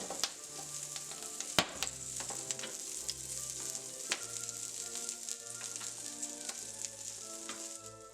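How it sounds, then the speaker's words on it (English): Brussels sprouts poured onto a piping hot baking sheet sizzle and crackle steadily, with scattered pops and small clinks, moderately quiet and with no voices. "pour the Brussels sprouts right on top of that piping hot sheet, and I'm going to fade out and let you listen to what that sounds like"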